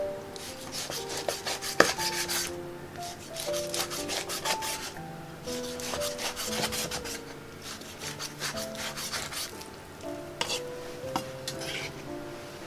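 A knife slices 600 g of pork shoulder into bite-size pieces for spicy stir-fried pork, making repeated scraping, rubbing strokes and occasional clicks against a board over soft background music.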